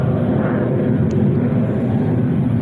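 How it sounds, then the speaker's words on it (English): Steady, loud airplane drone from aircraft flying overhead, a broad continuous roar that fills the whole stretch without breaks or voices. "there's a lot of this noise of the sound of the airplanes flying around"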